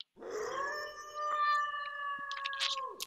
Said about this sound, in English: Howling?